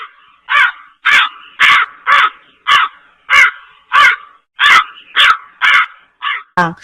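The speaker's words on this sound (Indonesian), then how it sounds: "Anak di dalam kamar mendengar suara burung gagak di halaman belakang." A crow in a backyard caws about a dozen times in a steady rhythm, loud and close, each call harsh and short, ending with a quicker rattling call.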